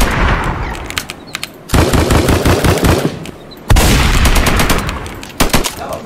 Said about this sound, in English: That shotgun shot was nasty.